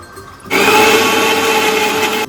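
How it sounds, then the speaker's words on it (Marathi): After a short quiet moment, a mixer grinder starts up grinding for solkadhi and runs with a loud, steady, high-pitched whirring drone. "परत दुसऱ्या वेळेला मिक्सरला लावलं, परत त्याचा रस करायचा."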